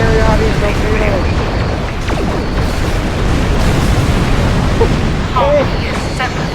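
Torpedo explosions rumble through a Star Trek Online space battle, with deep, continuous booming and rolling blasts layered with weapon tones, loud and dense throughout, while a voice talks over the din.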